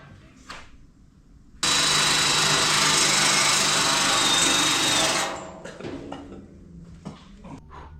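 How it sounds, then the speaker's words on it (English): A drill or grinding tool bores out spot welds on the rusty steel body of a Model A hotrod, running as a loud, steady buzz for several seconds before winding down into clanks and handling noises. "Trying to expose those spot welds so we can drill them out."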